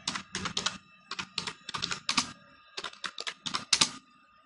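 Keys on a computer keyboard clatter in quick irregular bursts of close, crisp strokes with brief pauses between runs, alone with no voice.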